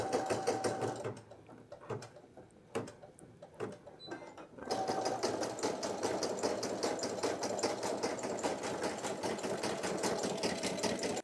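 A Brother PE800 embroidery machine stitches a multi-colour design on quilting cotton with cutaway stabilizer. A brief burst and scattered clicks come first, then a fast, even, rhythmic chatter runs steadily for several seconds.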